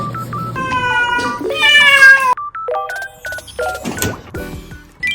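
A young tuxedo stray kitten meows repeatedly, rising and falling cries close by, with a brief soft voice in the background.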